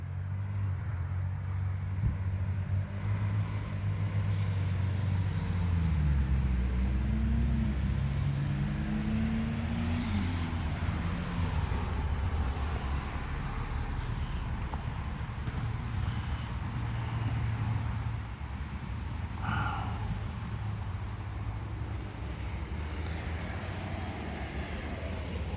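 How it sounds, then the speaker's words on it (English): Steady road traffic rumbles past a roadside cemetery in Jackson, Michigan, with heavy vehicles swelling and fading in turn as a continuous loud drone. "we are right off the road, so you're going to hear a lot of traffic coming by"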